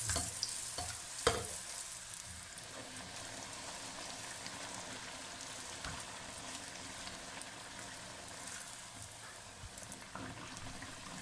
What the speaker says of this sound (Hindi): और इसे हम ऐसे उठाएंगे और डायरेक्ट ऑयल में, और चम्मच की मदद से ये ऊपर हम जैसे ही ऑयल डालेंगे भटूरा फूलना शुरू हो जाएगा